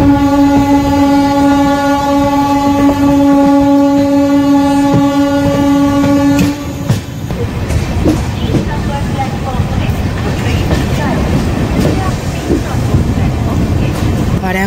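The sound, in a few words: Kolkata Sairang Express crossing a local train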